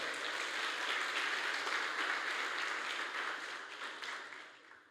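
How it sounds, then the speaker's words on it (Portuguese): Congregation applauding at a church service, dense sustained clapping that holds steady before fading out over the final second. "Se você crê nisso, dê um aplauso bem forte ao Messias"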